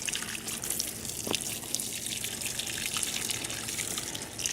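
Water pouring steadily over potted fig tree cuttings to soak them, a soft continuous trickle with light splashing, close and fairly quiet throughout.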